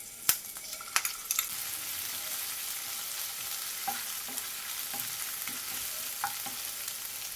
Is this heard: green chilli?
yes